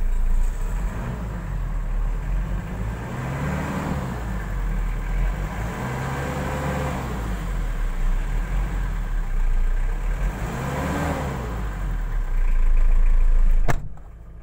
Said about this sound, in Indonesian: Ini dia suara mesinnya.